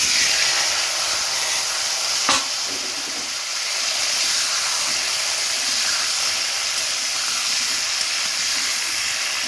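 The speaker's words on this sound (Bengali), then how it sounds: "আলুগুলো একটু ভেজে নেব" Potatoes frying in a kadai with a little extra oil, just after fish was fried and lifted out. There is a loud, steady, close hiss of sizzling oil throughout, with one brief sharp knock early on.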